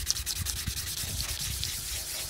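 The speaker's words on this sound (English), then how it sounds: "Not me. I wet sand." Wet sanding by hand across a plasti-dipped Buell XB9SX motorcycle tank cover, a steady rasping rub with short repeated strokes, close and continuous with no talk.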